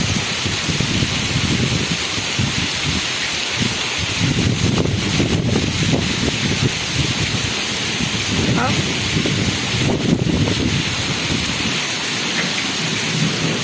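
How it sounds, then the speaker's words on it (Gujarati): Strong wind buffets the microphone with a steady low rumble, mixed with heavy rain spray pattering close by on a farm with cotton fields, and faint voices underneath. "પવન બહુ લાગે છે આજે તો"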